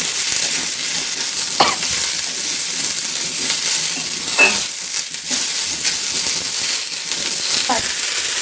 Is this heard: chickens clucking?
no